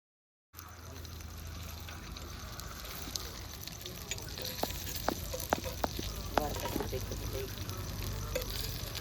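Cooking oil sizzling on a heated clay roof tile used for cooking chicken at a village party, a steady close hiss with scattered sharp crackles and pops, under a voice speaking.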